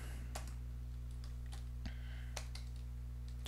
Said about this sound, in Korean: 그냥 대략적으로 이렇게 타이핑을 해볼게요.